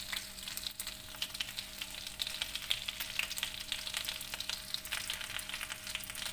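Onion sizzles and fries in a pan on the stove, a steady crackling hiss with scattered pops, fairly faint and with no talking over it.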